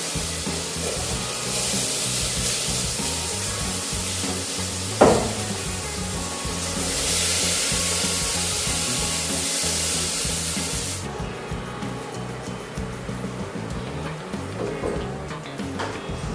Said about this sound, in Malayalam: ഇതിലേക്ക് സവാളയും പച്ചമുളകും ചേർത്തൊന്ന് വഴറ്റിക്കാം